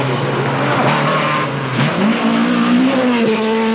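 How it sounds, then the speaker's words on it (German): A rally car at the 1989 Pneumant Rallye Berlin roars loudly past through forest, its engine revving and climbing in pitch as it accelerates, with a hint of tire squeal. "Wie ein röhrender Hirsch jagt dieser Wagen durch Wald und Flur."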